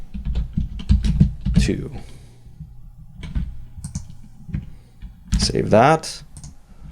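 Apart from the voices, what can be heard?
typing on a computer keyboard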